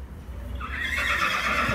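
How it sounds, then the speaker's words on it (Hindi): Several horses neigh and whinny at a riding spot, a loud shrill call swelling after a brief lead-in of low rumbling ground noise, with faint hoof clip-clop beneath. "कितनी खतरनाक आवाज़ आ रही है, मतलब इतने सारे घोड़े भाई साहब"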